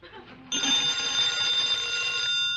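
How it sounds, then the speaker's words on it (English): An old telephone bell rings in a 1949 radio comedy show, a loud sustained metallic jangle starting after a brief quiet moment and holding steady for about two seconds. "Answer the phone."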